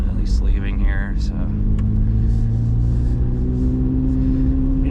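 A Corvette C8 Z06 pulls away under mild, gentle throttle, its engine a steady low rumble from inside the car while a person talks over it.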